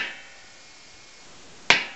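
A single sharp metallic tap of a center punch struck into metal in a furniture maker's workshop, one clear hit after near silence.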